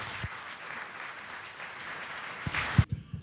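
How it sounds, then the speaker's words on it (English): Audience applause at a science talk, moderate and spread out with a few louder claps near the end before it cuts off abruptly. "So please give a round of applause to Loretta."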